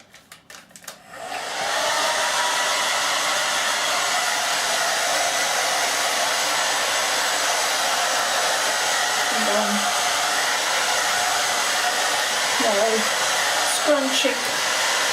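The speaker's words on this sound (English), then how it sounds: "I'm going to put this on medium heat." A handheld hair dryer set to medium heat roars steadily at close range after a short start-up, with faint handling noises and brief tonal squeaks near the end.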